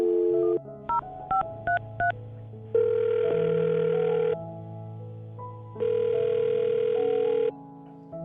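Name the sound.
dialing a phone number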